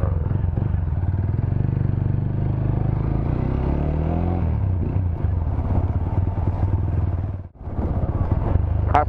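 A motorcycle rides along a road toward a market, its engine rumbling steadily and close, with engine pitch rising and falling as it accelerates, and a brief dip in the noise near the end.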